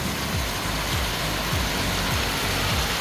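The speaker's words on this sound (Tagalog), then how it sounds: "Sobrang lakas ng ulan." Very heavy rain falls hard and steadily during a pigeon race in Cagayan, a loud, continuous close-up roar of downpour with no voices.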